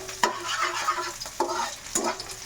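Garlic sizzling in a hot pan for fried rice, with a steady crackle and sharp scraping stir strokes every half second or so, close and alone.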